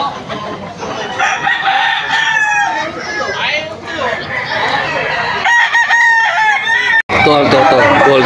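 Stag roosters crow loudly and repeatedly at a rainy poultry market in Bocaue, Bulacan, with clucking fowl and overlapping crows close by amid busy market noise.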